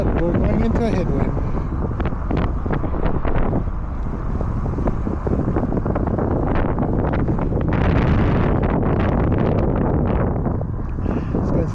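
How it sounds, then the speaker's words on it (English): A strong headwind hits an e-bike rider, producing continuous loud wind rush and microphone buffeting for the whole stretch, with some muffled talk mixed in. "we're going into a headwind"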